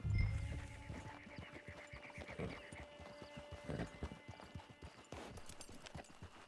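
Horse hooves clip-clop steadily on the ground in the Red Dead Redemption Online video game, a rhythmic run of hoofbeats over a musical score, moderately loud and fairly close.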